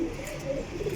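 Pigeons coo softly in a loft of champion racing birds, with low, rolling, overlapping calls that carry on continuously at moderate distance and with no talk.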